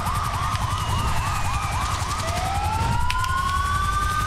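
A fire truck siren in GTA V wails loudly and continuously, with a rapid yelp pattern shifting into long rising sweeps, amid traffic noise.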